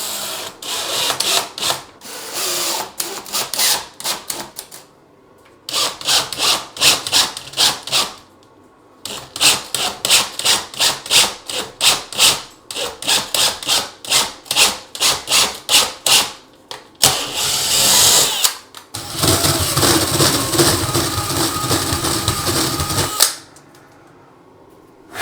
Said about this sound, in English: I measured about 3 inches of that all thread and then started to cut off the threads on one side.